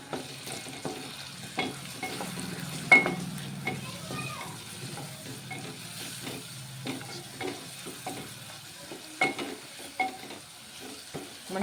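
Fresh ginger garlic paste and turmeric fry in a pan under a soft, steady sizzle while a spoon scrapes and knocks against the metal in irregular stirring strokes, with occasional louder clanks.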